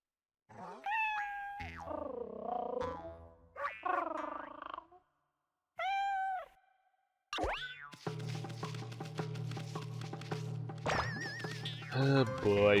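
Cartoonish cat meows in the video game Okami HD, several short, bright mewing calls with gaps between them, followed by busier game music and effects.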